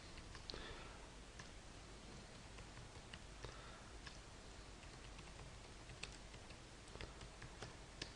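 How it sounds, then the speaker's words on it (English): Quiet, irregular clicks of fingers tapping on a computer keyboard, faint and close, with brief pauses between bursts of keystrokes in a classroom setting. "we can type in some answers"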